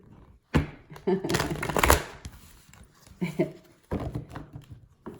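Playing cards are riffled and bridged in several quick bursts, crisp flapping shuffles close up with short pauses between them.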